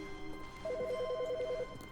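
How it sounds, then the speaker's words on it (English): A telephone rings in the video game The Stanley Parable, a fast trilling electronic ring lasting about a second over a quiet steady hum, with no talk. "That phone is ringing."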